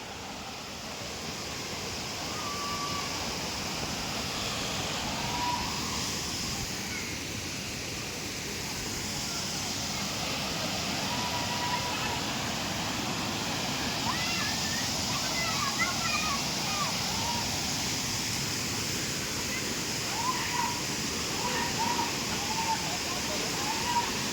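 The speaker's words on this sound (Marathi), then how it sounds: "हे सुंदर असं बेकरे वॉटरफॉल" Bekare waterfall rushes in a steady, broad roar of falling water, constant throughout, with voices of children and tourists talking over it.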